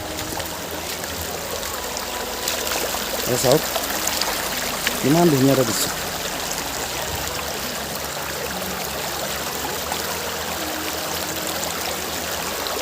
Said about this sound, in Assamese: এইটো এটা ঝৰ্ণাৰ পৰা বৈ আহিছে একদম ওপৰৰ পৰা এই চেঁচা পাহাৰৰ এই ঝৰ্ণাৰ পৰা